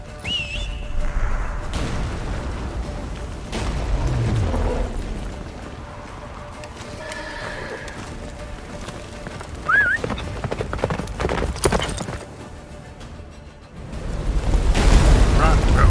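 Roach the horse galloping in The Witcher 3 during a blizzard chase, steady hoofbeats running under loud wind, booming effects and a brief whinny, with game voices talking over parts of it.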